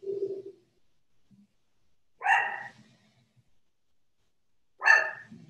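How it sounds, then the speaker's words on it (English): Two sharp, loud dog barks sound alone at a steady gap, each a single burst with silence around it, aimed at a mail carrier at the door in an indoor home setting. "My dog barking at the mailman."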